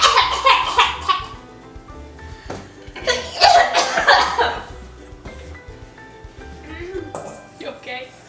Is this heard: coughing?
yes